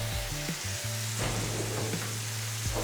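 Shrimp seasoned with salt and black pepper searing in a hot pan, a steady close sizzle under a low background hum, with no talking.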